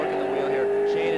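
A street stock Ford Mustang race car climbs Pikes Peak at a 1995 IMSA SuperCar event, its engine a loud, steady droning note held at near-constant pitch under a commentator's voice.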